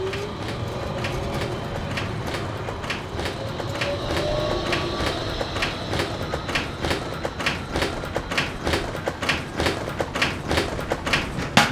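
A tram passing at Place Bellevue: a rolling rail rumble with a faint squeal and regular rhythmic clacks that grow stronger as it goes by, heard alone.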